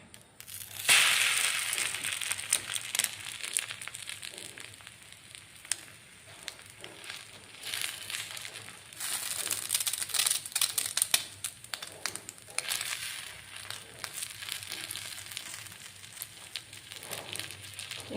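Bread slices with a little beaten egg poured over them fry in a pan on a low flame, three pieces at once, giving a steady crackling sizzle with sharper spits and pops throughout and no talking.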